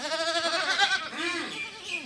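A young goat kid on a goat farm bleats repeatedly at close range, a run of wavering, quavering cries that rise and fall, with a brief pause before another long bleat.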